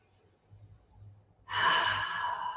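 One deep breath during a yoga session, first a soft quiet inhale and then a long, audible breathy exhale close to the microphone.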